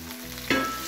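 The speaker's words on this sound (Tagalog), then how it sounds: "At kapag brown na ang bawang, lagay na natin ang sibuyas." Chopped onion dropped into a pan of browned garlic, bursting into a sudden loud sizzle halfway through a brief, quiet moment of low frying.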